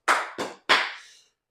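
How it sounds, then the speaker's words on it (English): Three separate hand claps, sharp and close, the second and third spaced a little apart, with no voices. "Can we get a round of applause, bro?"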